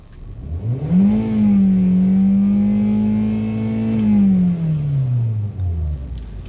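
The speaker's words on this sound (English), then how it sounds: "the engine sound is very normal." A 2015 Kia K3 1.6 GDI car engine revs up, holds a steady high drone for a few seconds, then winds back down; close and loud with no talking.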